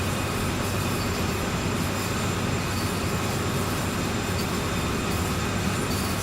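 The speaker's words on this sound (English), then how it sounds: "really awesome American locomotive" A CSX C40-8W American diesel locomotive in Train Sim World 2 runs with a steady, dense engine roar and broadband rumble that stays constant and loud throughout, heard from up close with no voices.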